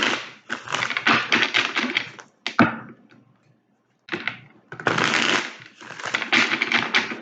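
Tarot cards are shuffled by hand in several crisp, riffling bursts, close and fairly quiet, separated by short pauses of near silence.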